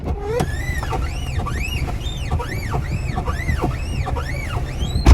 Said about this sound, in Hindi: एक दरवाजे में आवाज़ है, वो मैं आपको सुनाऊंगा।